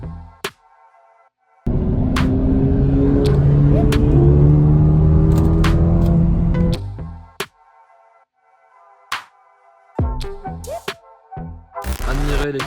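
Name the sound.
Mercedes A35 AMG, Alfa Romeo 4C and Abarth engine sounds on motorway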